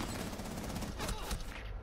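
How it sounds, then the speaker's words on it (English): Gunfire in the tactical shooter Rainbow Six Siege, a dense burst of loud overlapping shots that fills the whole short moment, with no voices. "Just gotta shoot him once."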